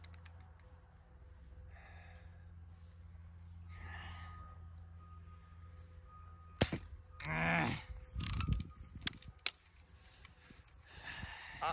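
Gunfire from a handgun aimed at targets outdoors: a few sharp reports spread across a quiet stretch, with a burst of rougher noise in the middle and no talk.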